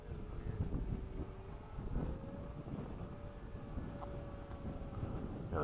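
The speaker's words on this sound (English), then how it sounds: "It is really windy up there." Steady wind noise buffets the microphone during a high-speed Hawk jet formation flight, a low rough roar that continues throughout with faint tonal hums beneath it.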